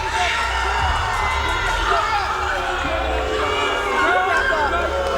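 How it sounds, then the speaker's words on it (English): A wrestling studio crowd at TSW Plus Studios roars with a steady wall of cheering, shouting and jeering that stays loud and dense throughout, with scattered individual yells rising out of the mass. "You can hear the crowd here in the TSW Plus Studios letting them have it"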